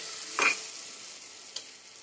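Food roasts in a pan, a soft steady sizzle with a short stirring scrape early and a faint tap later, no voices.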